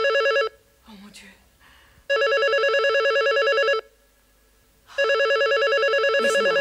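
A telephone rings in three long electronic bursts, close and loud, with faint speech and movement in the quiet gaps between rings.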